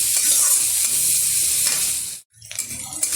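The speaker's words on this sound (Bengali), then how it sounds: "পেঁয়াজটা একটু লাল লাল করে ভেজে লাগবে দিয়ে দিচ্ছি সামান্য পরিমাণে একটু হলুদ গুঁড়ো" Onions with a pinch of turmeric fry and get stirred in a pan for a chicken dish, making a loud, close sizzle with scraping strokes that drops out abruptly near the end, then resumes more sparsely.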